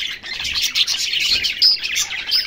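Rainbow parakeet (budgerigar) chirping steadily with bright, rapid tweets and warbles, close and fairly loud, continuous throughout with no talking.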